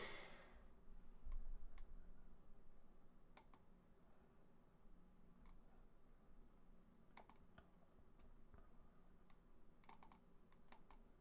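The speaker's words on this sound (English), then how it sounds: "Click, click, click." Sparse, faint clicks, likely from a mouse or keyboard, scattered irregularly over a low background hum, sometimes single and sometimes in small clusters.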